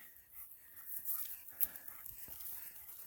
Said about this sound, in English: all you can hear is Big Boy panting